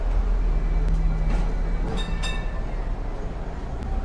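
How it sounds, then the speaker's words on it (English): A Hong Kong tram rumbles past on its rails, a low steady rolling drone with a few faint metallic clinks and a brief ringing tone near the middle, heard at moderate distance. "These trams are called ding-dings because of the bell they ring to make people get away."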